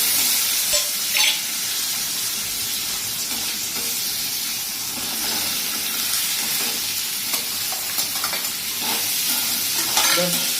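Pumpkin pieces drop into hot oil with dried red chillies, setting off a loud, continuous sizzle with crackling bursts and occasional stirring clatter close by.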